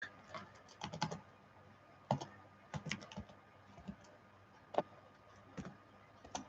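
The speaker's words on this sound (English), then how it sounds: "I'm typing in TT Wimbledon" Computer keyboard typing in short bursts of quick clicks, with brief pauses between runs, fairly faint and close in a quiet room.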